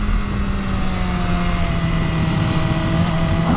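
A 2020 BMW S1000 RR sport motorcycle with quick shifter and blipper drones loudly at steady speed, its engine note rising slightly in pitch over a constant rush of wind.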